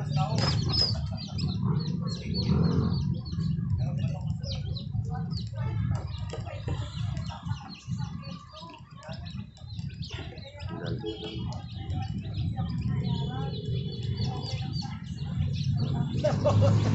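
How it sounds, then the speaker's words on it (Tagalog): Chickens cluck and fuss nearby over a steady background, with people talking at times throughout. "Manok yan."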